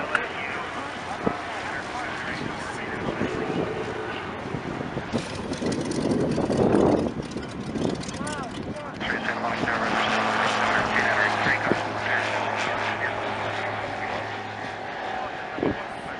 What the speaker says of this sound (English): the World War I plane is coming